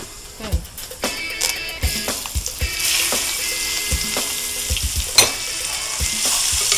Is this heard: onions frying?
yes